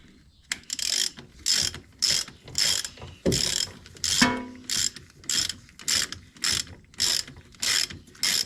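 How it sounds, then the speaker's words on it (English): Hand ratchet clicking in steady repeated bursts, about a dozen strokes, while a control arm is installed on a 1994 Acura Integra; close and fairly loud, with a brief metallic clank midway. "Come on, ratchet."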